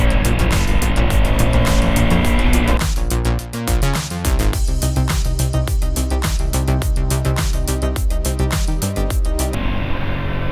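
A 2022 KTM RC 200 motorcycle rides along a road, its engine loud and close with a steady drone that shifts pitch in steps as the revs change.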